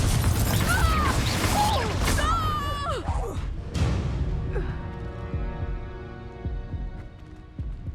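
A Confringo fire spell from Hogwarts Legacy goes off in a loud burst, followed by crackling debris and a fading, ringing tail over steady game ambience, with no talking.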